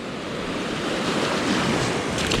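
Ocean waves crash continuously onto a surf perch fishing beach, breaking close in at a pocket nearer than the surrounding shore, a loud, steady roar of surf mixed with wind noise on the microphone.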